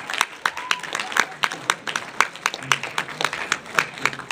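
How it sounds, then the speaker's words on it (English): Scattered claps from a small church audience at Calvary Chapel, a few hands at a time, irregular and fairly close, with a voice murmuring faintly underneath. "If you open your hand, some of the people might clap."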